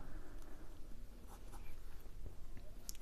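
Pen writing a word on paper during a math lesson, a continuous faint scratching of strokes under low background noise.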